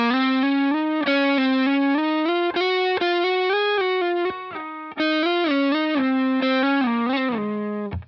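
Electric guitar with effects slides smoothly between notes, gliding pitches giving a sitar-like buzzing drone; a continuous loud phrase of many connected notes with no talk.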